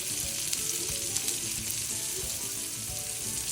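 A steak sears in a hot pan with a loud, constant sizzle and crackle, punctuated by small pops and stirring scrapes, close and unbroken throughout.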